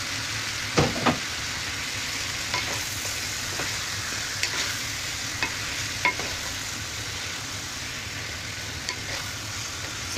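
Tomatoes go into chicken wings sautéing in a pan, giving a steady loud sizzle and frying hiss with occasional stirring clicks and scrapes from a utensil.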